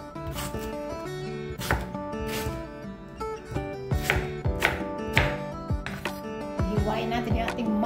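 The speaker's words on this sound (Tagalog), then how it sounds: "Hiwain natin yung ating mangga" A knife slicing through a large ripe mango, giving a series of sharp, close cutting knocks against a board at irregular intervals, with a voice talking now and then between the cuts.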